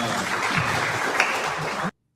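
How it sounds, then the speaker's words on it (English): A crowd applauding steadily, a dense wash of many hands clapping at even loudness, then cutting off abruptly. "And it was a well-deserved applause."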